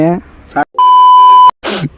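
A sustained pure-tone censor beep cuts across casual speech between short bursts of someone talking, lasting under a second and loud against the voices.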